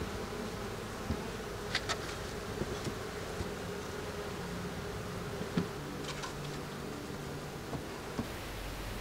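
Honeybees buzz steadily around a backyard beehive, a soft continuous hum with brief louder passes as individual bees fly close, outdoors with no talking.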